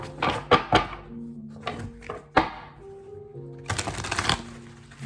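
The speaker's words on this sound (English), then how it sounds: "Let me do 5 shuffles for her." Tarot cards shuffled by hand in a few quick riffling bursts with soft thumps between them, close and fairly quiet, a brief murmur of a voice partway through.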